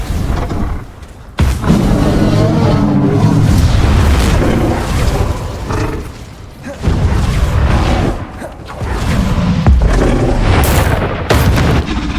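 Loud booming blast of the Confringo fire spell in the Hogwarts Legacy video game, a series of heavy explosive bursts and thuds with a player's voice calling out over the action.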